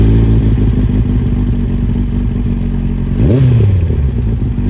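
A Yamaha Fazer 1000 with a Dominator exhaust and its baffle removed starts up and idles with a loud, deep, rough burble, then gives a sharp rev that rises and falls, heard close and alone.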